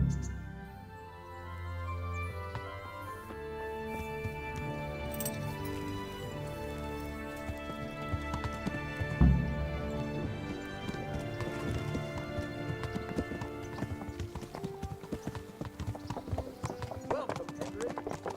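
A horse ridden off in the medieval game Kingdom Come: Deliverance, its hooves clip-clopping in a steady trotting rhythm that runs throughout, set against game background music.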